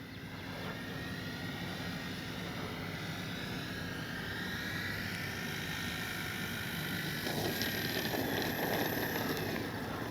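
A CNHL Bison XT radio-controlled bush plane drones steadily overhead in flight, its electric propeller whine holding a constant, moderately distant level with slight swells and no voices.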